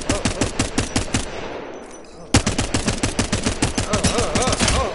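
Rapid automatic gunfire in a one-on-one video game match, loud bursts of closely spaced shots with a brief pause midway before firing resumes.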